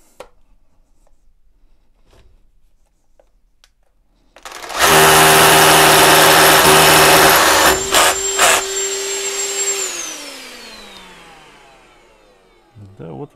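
After a few quiet seconds, a drill with a Makita DX01 dust extraction attachment roars into a loud steady whine, cuts out briefly, then winds down.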